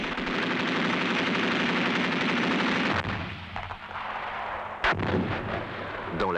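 20 mm cannons mounted on trucks, light armoured vehicles and helicopters firing explosive incendiary rounds, a dense rapid burst of loud automatic fire, then a pause with scattered shots and a final sharp blast.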